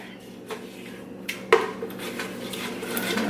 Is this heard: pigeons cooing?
no